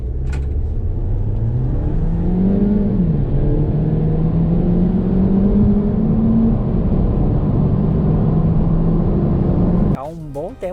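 A Fiat Fastback 1.3 Turbo accelerates hard from 0 to 100 km/h, its engine note rising through gears in a loud continuous whir and drone, with brief talk at the end.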